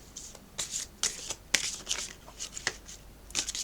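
Tarot cards being shuffled by hand, a quiet, close series of irregular riffling and flicking bursts with brief pauses in between.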